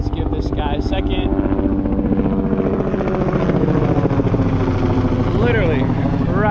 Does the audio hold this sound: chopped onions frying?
no